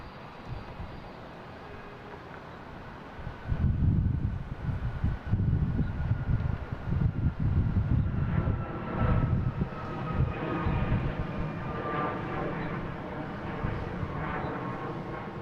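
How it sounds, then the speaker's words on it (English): United Airlines Boeing 737 MAX 9 jet taking off from Boston Logan toward LAX, a distant rumbling engine roar that swells after a few seconds and holds steady, with wind buffeting the microphone. "I got United Airlines taking off to LAX. 737 MAX 9,"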